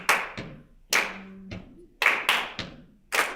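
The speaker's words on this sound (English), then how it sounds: "I'm gonna clap that part for you" Sharp, close hand claps in an uneven rhythmic pattern, roughly eight strikes in short groups with brief gaps, marking out a rehearsal part for a ukulele orchestra, played alone without talk.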